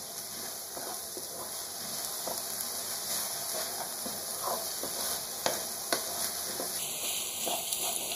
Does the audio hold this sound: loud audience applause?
no